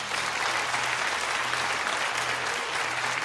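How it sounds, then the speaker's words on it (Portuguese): Church congregation applauding, a continuous even roar of many clapping hands from start to finish, moderately loud with a faint low hum beneath. "Você pode aplaudir o Senhor?"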